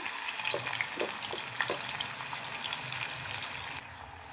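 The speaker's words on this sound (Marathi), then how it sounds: "कांदा टोमॅटो आपला भाजलेला आहे" Chopped onion and tomato sizzle steadily in a hot pan, a dense continuous frying hiss with a few soft stirring scrapes near the start.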